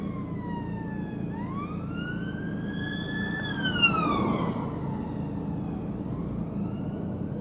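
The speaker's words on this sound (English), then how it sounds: "there's so many sirens" A wailing siren rises and falls in long sweeping tones, moderately distant, over a steady low traffic rumble.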